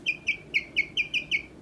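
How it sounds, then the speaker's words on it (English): A young chicken chick peeping close by, seven bright, evenly spaced high chirps in quick succession, clear and alone against a faint low background. "At least it's chirping and making noises."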